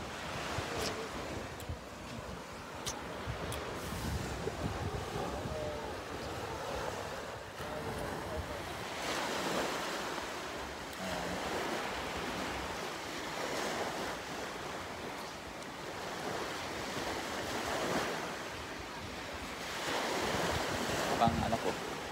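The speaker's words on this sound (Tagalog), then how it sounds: "Hopefully, naririnig ako kasi masyado mahangin." Gusty wind rumbles against the microphone over the steady roar of surf breaking nearby, continuous and moderately quiet throughout, on a beach in Anda, Bohol.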